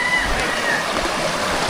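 River water splashes and churns during a river crossing, a loud, close, continuous wash of spray and sloshing.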